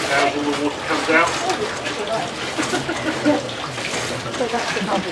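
Water gushing and splashing out of a Jonbuoy rescue device during a demonstration at a Bluewater weekend, a steady, loud rushing pour with some voices talking over it.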